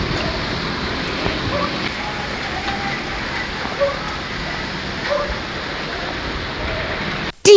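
Rain falls steadily at night with a dense, even hiss and a few louder patters. A brief sharp knock comes right at the end.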